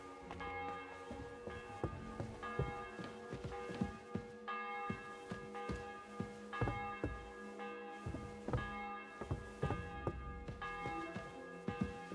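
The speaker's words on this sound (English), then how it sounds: "The bell's ringing for Hans the 5th time." A church bell tolls repeatedly in the medieval video game Kingdom Come Deliverance 2, with evenly spaced, resonant strikes whose ringing overtones overlap. It sounds moderately loud and plays alone, without speech.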